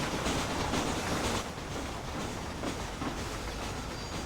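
A train rolls along the tracks in the video game Red Dead Redemption, a steady, fairly quiet rumble with a soft clickety-clack rhythm and faint rattling carried over several seconds.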